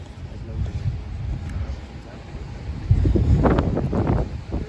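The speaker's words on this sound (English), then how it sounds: "It's a bit nippy, a bit windy, but we don't mind it." Chilly wind gusts outdoors during a parade in Liverpool, rumbling against the microphone, growing stronger midway and holding as a steady low roar.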